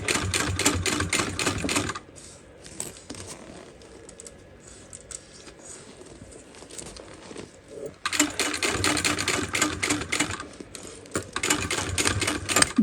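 A sewing machine runs in fast, steady bursts while stitching a mini dual compartment crossbody bag, loud and close, pausing for a few quieter seconds of faint handling noise before resuming.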